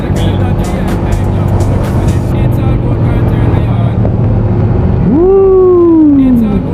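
A Yamaha NMAX or Honda ADV160 scooter engine revving to high RPM on a road, a loud, close drone that suddenly rises into a strong whining pitch, then slowly falls away.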